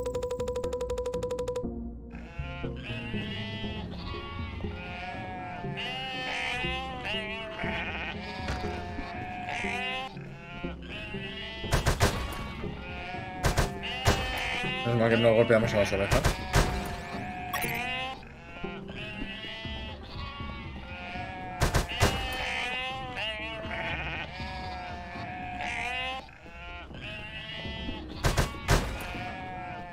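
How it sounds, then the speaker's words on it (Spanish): Sheep bleat over and over in the video game UnMetal, layered with the game's music and effects while someone speaks Spanish over it. "250 ovejas"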